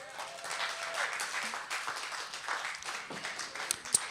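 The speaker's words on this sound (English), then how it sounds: "Give them a round of applause." Audience applause at a Hebrew study session, a soft, continuous patter of clapping heard from a distance, fairly faint throughout with no speech over it.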